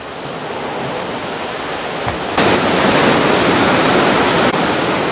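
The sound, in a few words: mountain valley stream flowing water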